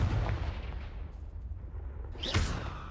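A Confringo blasting spell in Hogwarts Legacy goes off as a deep booming blast at the start. A rumble fades out, then a second sharp burst hits near the end, loud and close.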